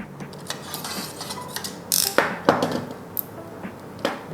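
Plastic protective film is peeled from a Thermaltake Tower 300 PC case with tempered glass, giving a series of short crackling clicks and rustles, the loudest burst midway.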